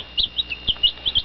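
Four-day-old chicks kept in a warm bathtub chirp in a quick series of about seven high, thin peeps, evenly spaced and close, with no voices.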